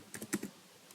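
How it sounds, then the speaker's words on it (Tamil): A short burst of about half a dozen quick keystrokes on a computer keyboard, entering a web address into a browser, close and fairly quiet, followed by near silence. "python.orgன்னு டைப் பண்ணுங்கள்."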